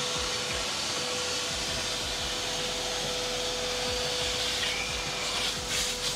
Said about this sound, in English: So I'm gonna vacuum my car right now.